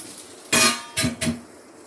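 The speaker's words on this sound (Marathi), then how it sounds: "आता पुन्हा एकदा झाकण ठेवते." A lid is set on a pot of dal with a close metallic clatter, then two lighter clinks as it settles, with no talk.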